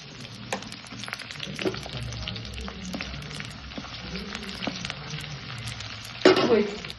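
Garlic, shallots and curry leaves fry in oil for a Kerala curry, a steady close crackling sizzle with scattered pops and stirring, swelling louder near the end.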